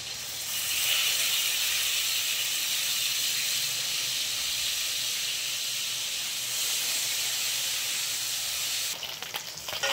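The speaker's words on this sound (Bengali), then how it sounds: "মাছটা লাল লাল ভাজা হয়ে গিয়েছে" Fish rubbed with salt and turmeric frying in a pan, a loud steady hissing sizzle that holds for several seconds before a few crackles at the end, no speech.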